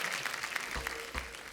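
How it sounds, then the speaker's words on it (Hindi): A live audience claps and cheers for arriving guests at a stage show. The applause is a dense, steady wash that runs through the whole moment without any talk. "एक बार जोरदार तालियां हो जाएं हमारे मेहमानों के लिए"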